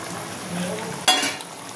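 Spiced gravy for a prawn dhoka curry simmers in a pan with a soft, steady bubbling, then breaks into a sudden loud sizzling hiss that gradually fades.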